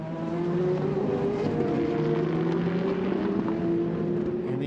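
The Kessel Racing yellow Ferrari and the Proton Competition number 16 Porsche race closely at Le Castellet in extreme heat, a loud, sustained engine roar with steady droning pitch throughout.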